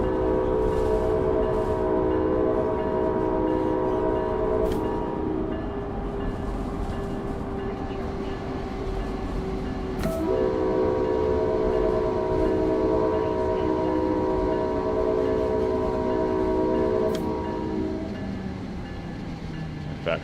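Electric commuter train in Train Sim World 6 running steadily near Brick Church station, with a continuous loud rumble and hum, brief horn-like tones, and a pitch shift midway as the drive changes; no talking.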